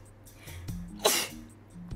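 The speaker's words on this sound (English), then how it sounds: "Oh, I gotta sneeze." One close, sharp sneeze from a person bursts out at mid-clip, preceded by faint breathy sounds and followed by quiet voice murmurs.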